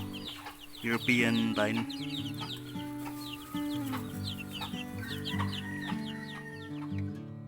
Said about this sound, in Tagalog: Ito naman mga 3 weeks old na sisiw.